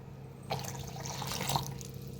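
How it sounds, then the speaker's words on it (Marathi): Water poured into a mixer jar holding gram flour and a little sugar, a soft short gurgling pour starting abruptly and running for under two seconds, quiet and close. "आता पाणी ओतून मिक्सरला लावून घ्यायचं आहे"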